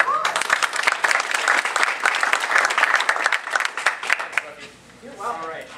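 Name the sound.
audience applause welcoming a presenter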